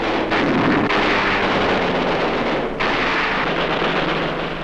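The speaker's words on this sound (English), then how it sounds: "Anti-aircraft tower is blasted." Heavy, continuous rumbling blasts and booming explosions of a WW2 air raid blasting an anti-aircraft tower, loud and close, with no voices.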